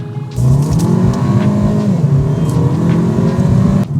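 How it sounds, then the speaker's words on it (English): A 2019 Volkswagen Polo GTI engine hums and revs steadily from inside the cabin, pitch rising and settling, loud and continuous throughout. "The actual engine noise coming into the cabin that you can hear."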